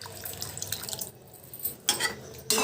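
Water is added to a simmering tamarind curry of dried bomidi fish, giving dripping and splashing bursts over a low background hiss, with no speech.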